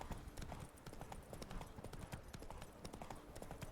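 Horse hooves clip-clop at a steady trotting rhythm in The Witcher 3: Blood & Wine, loud and close throughout with no talk over them.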